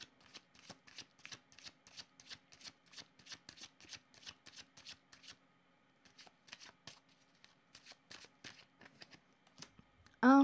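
Tarot cards shuffled by hand in a quick, dense run of crisp riffling bursts for about five seconds, then softer intermittent shuffling before a brief vocal sound at the end.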